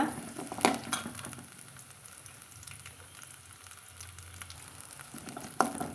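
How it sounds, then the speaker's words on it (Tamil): Onions sauté in a pan for a mushroom gravy, a soft, steady low sizzle with a couple of sharper clinks of a spoon near the start and end, fairly quiet and without speech. "பாருங்க வெங்காயம் வதக்கிட்டுருக்குங்க"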